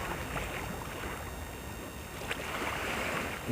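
Steady wash of water and wind with a low engine-like rumble, a fishing trawler moving toward shore through choppy sea at the Digha estuary during monsoon, with no voices.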